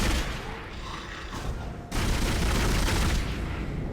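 Pulse rifle fire in the video game Dead Space, a dense, continuous burst of rapid gunfire that drops briefly, then resumes louder and fuller, sustained and close throughout with no talking.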